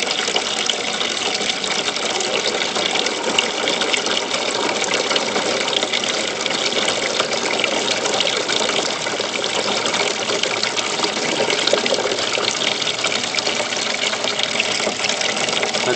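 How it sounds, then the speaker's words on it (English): Water gushes steadily as an aquaponics grow bed's siphon breaks and drains, a broad, continuous rushing flow that stays loud and even throughout with no voices. "you see how it blew out there? That was breaking the siphon."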